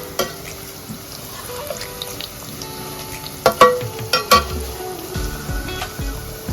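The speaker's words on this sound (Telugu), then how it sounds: "వేరే కడాయిలో మనం ఆయిల్ వేసుకొని పక్కన పన్నీర్ కూడా ఫ్రై చేసుకోవాలి." Paneer frying in oil in a kadai: a continuous soft sizzle broken by a few sharp clinks and scrapes of stirring, close by, with no talking.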